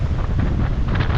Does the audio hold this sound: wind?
yes